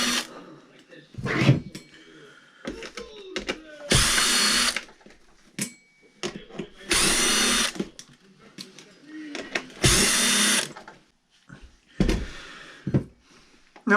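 Power driver spinning out the 2.5 mm body bolts on a Traxxas UDR RC truck, heard as four loud whirring bursts of a few seconds each, separated by pauses filled with light handling clicks.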